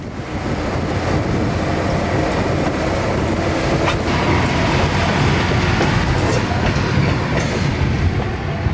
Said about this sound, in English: the train would head south to tie down just beyond the tree line